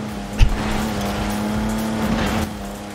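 A race car engine modeled on the Le Mans-winning Jaguar D-Type drones steadily at a constant pitch in Forza Horizon 4, loud and close, with a brief thump near the start and no voices.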